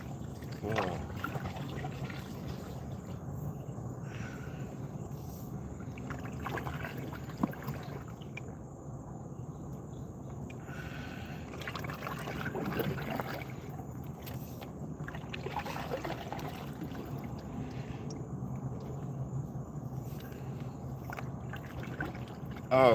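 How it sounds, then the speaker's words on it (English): Soft water sounds of a canoe paddle dipping and pulling at an easy pace, with gentle trickles and drips, a few faint voices in the background. "I'm just paddling like"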